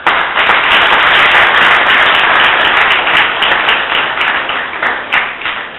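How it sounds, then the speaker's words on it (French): An audience gives a professor a long ovation at an academic lecture: loud, continuous, dense clapping that holds evenly throughout and eases only slightly near the end. "j'aurais souhaité avoir le plus grand applaudissement"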